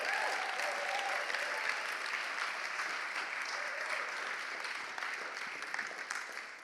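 Sustained applause from a large audience fills the room, dense, even clapping that stays loud for several seconds before easing slightly toward the end, with faint voices mixed in.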